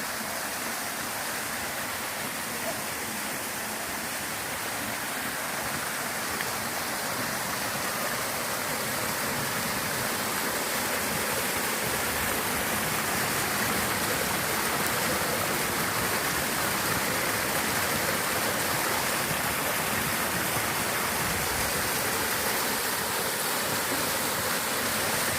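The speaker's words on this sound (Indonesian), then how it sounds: "Curug situ Rawa Gede." Waterfall at Curug Situ Rawa Gede near Bogor, a steady broadband rush of falling water that holds evenly for the whole stretch, moderately loud and unbroken, with no voices.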